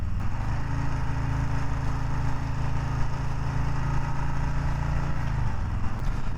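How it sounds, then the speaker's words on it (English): A 2020 Harley-Davidson Softail Street Bob engine drones steadily at a constant pitch, a continuous low rumble heard from on board while riding. "I'm starting to hear the engine a little bit more."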